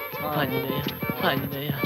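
A horse whinnies and its hooves clop across a comedic film scene, the clip-clop rhythm running steadily under a voice that talks over it throughout.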